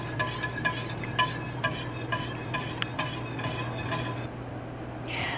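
A spoon stirs cheese sauce in a cooking pot, with rhythmic scraping strokes and light clinks over a steady low hum and a soft bubbling sizzle, close and fairly loud, no talking.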